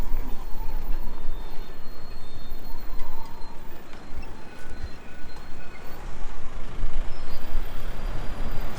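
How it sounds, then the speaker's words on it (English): A city bus on a street in France gives short hissing air-brake releases over loud, steady traffic rumble, with faint beeps now and then. "So there's the bus coming back."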